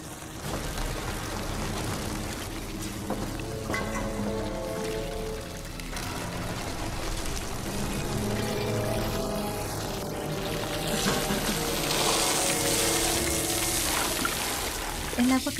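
Hot water is poured onto ants in a steady, sloshing stream that continues for a long stretch under a movie soundtrack, with voices talking over it.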